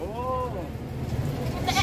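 Goats bought at a rural livestock market on a rainy day give one wavering bleat near the start. A rumbling, noisy background follows, with people talking nearby.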